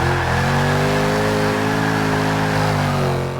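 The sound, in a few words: Mercedes C63 AMG S Coupe engine revving in Forza 6 video game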